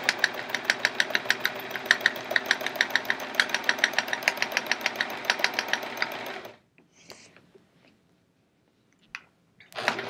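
Sewing machine running steadily during free motion quilting on a chevron quilt, a rapid even stitching hum that stops abruptly, followed by quiet and a few soft fabric rustles.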